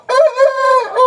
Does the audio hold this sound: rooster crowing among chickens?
yes